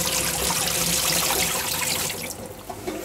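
Running water rinsing out a deep fryer, a loud steady rush and splash of tap water that eases slightly toward the end, close and alone without talk.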